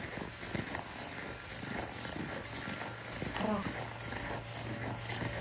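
A snow blower works through snow outdoors, giving a steady low engine drone that holds throughout at a moderate distance while someone talks over it.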